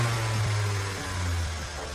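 A Range Rover engine runs steadily after being revved from cold, giving a loud, close, continuous low hum that eases slightly and holds an even tone throughout, with no voices.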